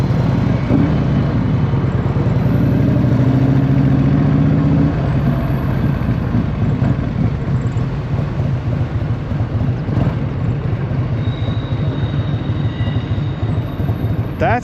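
A 1984 Harley-Davidson FLT Tour Glide with a 1340 Evo engine idles close by, giving a loud, steady, low rumble that holds unbroken for the whole stretch.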